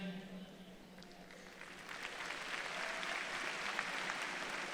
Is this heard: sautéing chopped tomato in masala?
no